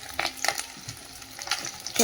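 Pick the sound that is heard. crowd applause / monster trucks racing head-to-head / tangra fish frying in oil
tangra fish frying in oil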